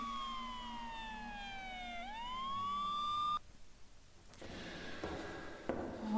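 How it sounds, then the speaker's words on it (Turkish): A wailing ambulance siren in a Minecraft horror map sweeps down and back up, loud and close, then cuts off abruptly, leaving muffled noises and clatter. "Ambulans sesleri geliyor."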